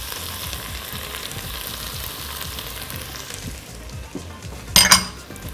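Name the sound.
adding broth to cooking vegetables in a pot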